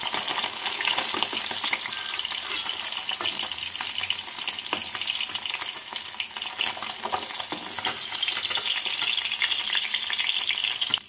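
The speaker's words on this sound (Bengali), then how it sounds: "বাকি মাছগুলোকেও একইভাবে ভেজে নিতে হবে" Bata fish frying in oil in a kadai, a dense, even crackling sizzle filling the whole stretch, close and steady with faint stirring clatter mixed in.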